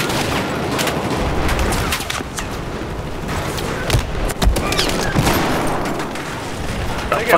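Heavy gunfire in the video game Battlefield 4, in a close-quarters conquest match on the Operation Metro map: a loud, dense barrage of rapid shots with booming thuds, continuous for the whole stretch and with no talk.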